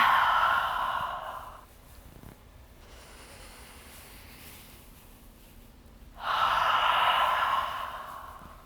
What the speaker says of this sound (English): exhale as you reach forward with an audible ha sound out through the mouth